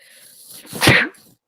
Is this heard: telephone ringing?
no